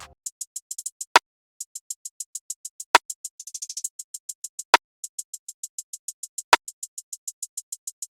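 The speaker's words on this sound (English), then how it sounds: "Then I added this perk snare," A percussive snare hit in an FL Studio trap beat, cracking sharply about every two seconds over a rapid, steady run of high ticking hi-hats that briefly rolls faster, with no voices.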